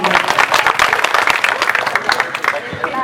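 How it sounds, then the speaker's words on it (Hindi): An audience claps together to welcome a snake rescuer onto the stage at a snake-saving awareness event in Manendragarh, the dense, even applause close and loud with crowd murmur and some talk mixed in. "ताली बजा के थोड़ा इनका स्वागत करिए आप लोग"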